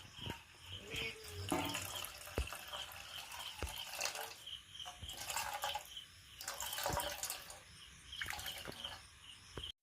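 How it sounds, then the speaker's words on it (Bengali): Coconut milk from a squeezed, fully ripe large coconut being strained through a kitchen strainer, giving steady close-up liquid pouring and dripping with splashy trickles throughout. "তারপরে একটা ছাঁকুনির সাহায্যে নারকেলের দুধটা আমি ভালো করে বের করে নিচ্ছি"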